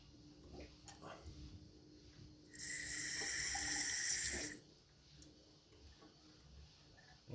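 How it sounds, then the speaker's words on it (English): Water trickles into a home brew airlock on a sanitised fermenting bucket for a hazy IPA kit, a steady two-second pour of running water, close and fairly loud against a quiet room. "Put a little drop of water in there."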